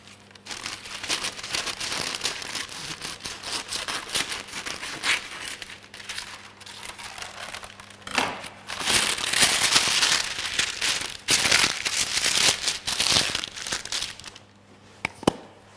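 Baking paper crinkles and crackles up close over a baking tray, rustling continuously, with louder bursts of crumpling toward the end.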